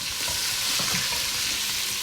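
Onions and four cloves of garlic fry in a pan for a Puerto Rican chicken stew, giving a steady close sizzle with soft stirring scrapes and no talking.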